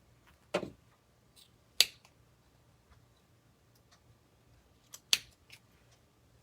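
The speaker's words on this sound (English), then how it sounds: "so let's snip them" Scissors snip loose craft threads on a homemade Christmas Santa boot, three sharp isolated cuts spaced apart in an otherwise quiet room.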